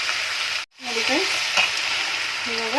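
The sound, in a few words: stirring tempering sizzling in a frying pan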